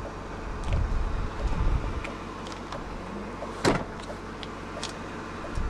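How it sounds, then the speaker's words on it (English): The seat back of a 1995 BMW 840Ci is released by a lever and flipped forward, giving a few muffled mechanical clunks and rustles inside the car, with one sharper click partway through. "locate this lever right here, push it, and flip the seat back forward."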